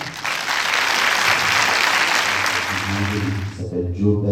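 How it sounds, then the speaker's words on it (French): An audience gives loud, dense applause at a film event, steady clapping from many hands that fades toward the end as voices and a musical tone come through underneath. "C'est le film de Cyril Gelblat, on peut l'applaudir."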